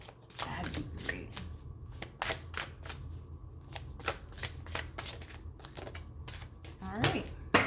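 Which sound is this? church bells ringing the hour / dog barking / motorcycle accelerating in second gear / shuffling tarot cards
shuffling tarot cards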